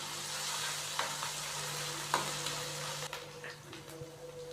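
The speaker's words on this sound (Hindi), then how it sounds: "हल्का सा इनको फ्राई करेंगे तकरीबन 1 मिनट के लिए, ताकि इनका कच्चापन ख़त्म हो जाए।" A paste of ginger, garlic and green chili fries in oil with a steady close sizzle, faint stirring scrapes and clicks breaking through now and then.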